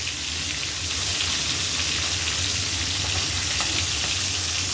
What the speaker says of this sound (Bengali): দারুণভাবে মাছগুলো ভাজা হচ্ছে।